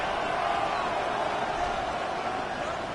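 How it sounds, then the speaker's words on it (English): Stadium crowd noise from the Madden NFL football video game: a steady, loud roar of a large crowd making noise before a third-and-inches play, sustained without break throughout. "This crowd, they're trying to force a false start."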